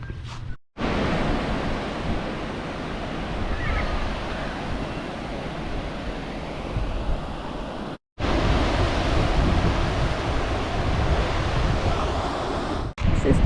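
Surf breaking on Turners Beach at Yamba on a placid afternoon, a steady close wash of waves with wind buffeting the microphone, continuous apart from two brief dropouts.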